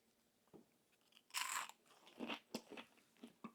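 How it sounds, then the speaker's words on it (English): Crunchy oil-free air-fried food bitten and chewed close up: one loud crackling crunch followed by several shorter crisp bites and chews, no talking. "Get ready for the crunch. No oil."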